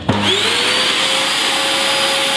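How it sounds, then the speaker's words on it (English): A vacuum cleaner runs steadily and loudly from start to finish, starting up with a brief thump and then holding a constant whining drone, used to vacuum-seal a steak. "Vacuum cleaner in place."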